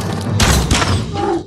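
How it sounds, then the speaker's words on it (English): Gunfire crackles in Ghost of Tsushima, a loud burst of overlapping shots and booms in the middle, trailing into quieter rumble. "Who are they shooting at?"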